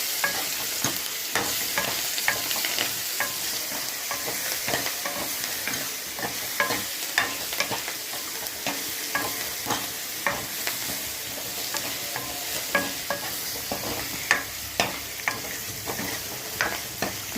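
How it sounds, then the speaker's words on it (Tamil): Mashed tomatoes poured over sautéed onions frying in a pan for tomato kadayal, a bright continuous sizzle punctuated by regular scraping stirs, loud and close with no voices. "வெங்காயம் நல்லா வதங்கின பிறகு கடைஞ்சி வச்ச தக்காளி எடுத்து ஊற்றணும்"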